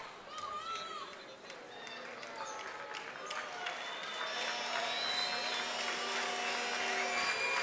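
A crowd fills a women's basketball arena during the Argentina versus Canada AmeriCup final, a broad, swelling din of voices and shouts that grows louder toward the end, with a commentator talking over it.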